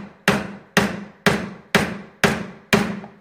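A chisel is driven into wood to cut a mortise, six sharp, evenly spaced strikes about half a second apart, each with a brief fading ring, close and clear with nothing else heard.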